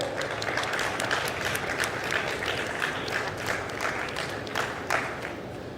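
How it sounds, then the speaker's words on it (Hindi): Audience applause welcoming guests onto the stage at a health and hygiene campaign launch, a steady wash of many hands clapping at moderate volume from a distance, continuous for several seconds. "तालियों से उनके स्वागत करें"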